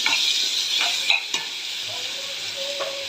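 Tomatoes sauté and hiss in a pan for brinjal kara kuzhambu, a close, steady sizzle broken by a few quick stirring scrapes and clicks, with no voices.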